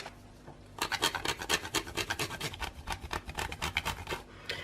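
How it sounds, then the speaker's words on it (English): Chocolate being grated on a grater for a keto mousse, making a close, steady series of rhythmic rasping scrapes, each stroke distinct and evenly paced for several seconds. "You'll find a little goes a long way when you're grating chocolate like this"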